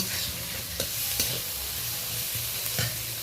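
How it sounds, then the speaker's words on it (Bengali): Spiced filling for potol dolma, with ginger paste, is worked together with a few soft wet squelches and taps over a steady low hiss. "এটা ভালো করে মেলে নেব সব মশলার সাথে ভালো করে মাখিয়ে নেব"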